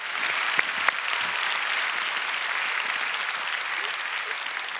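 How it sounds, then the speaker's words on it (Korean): A church congregation applauding, a dense, even wash of clapping from many people in a large room, sustained throughout with a couple of sharper claps standing out early. "다시 한번 우리 감사의 또 기대하는 박수로 하나님께 올려드리겠습니다"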